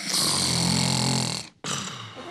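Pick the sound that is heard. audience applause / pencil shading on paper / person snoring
person snoring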